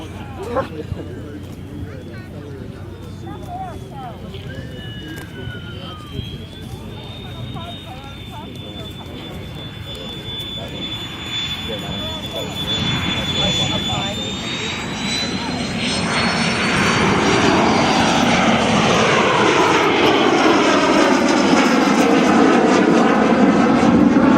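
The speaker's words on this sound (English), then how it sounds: "Even though the L-39 was designed and built as a trainer aircraft" An L-39 jet trainer flies at the 2015 Geneseo air show, its engine whine rising and swelling louder as it nears, building to a heavy roar by the end, with voices audible beneath it.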